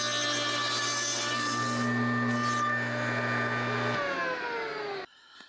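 A power saw cuts through a wooden board for a garden gate, running steadily for about four seconds with a loud whine that shifts as the blade passes through, then cuts off abruptly.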